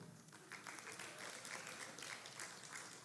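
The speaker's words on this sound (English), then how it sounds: "You got applause before I got your name out" Applause from staff at a faculty meeting as a marketing professor is introduced, a short burst of many hands clapping, moderately loud and continuous for about three seconds.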